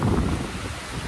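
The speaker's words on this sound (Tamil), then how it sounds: "நல்ல காத்தடிக்குதுப்பா." Strong wind buffeting a microphone outdoors at Reecha Organic Farm in Sri Lanka, a heavy low rumbling roar that stays loud and steady throughout the brief moment, with no voices.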